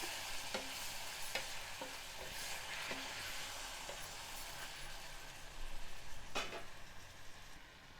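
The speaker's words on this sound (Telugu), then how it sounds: "చిక్కుడుగా ఇదంతా ఇందులో వేసుకోవాలి ఈ చిక్కుడుకాయ కూడా మా ఇంట్లో మా చెట్టుకు వచ్చిన చిక్కుడుకాయని ఇది చక్కగా కలుపుకోవాలి" Boiled broad beans being stirred into a sizzling curry in a pan, a steady close frying hiss with a few sharp spoon scrapes and knocks against the pan.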